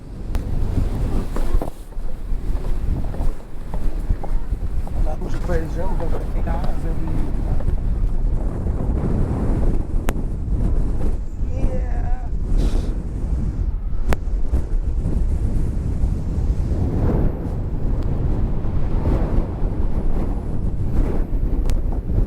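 Steady, heavy wind buffeting the microphone on top of castle ruins, a constant low roar throughout with occasional gusts; faint voices may be buried underneath.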